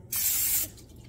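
A single short burst of cooking spray into a muffin pan, a bright close hiss lasting about half a second and then stopping.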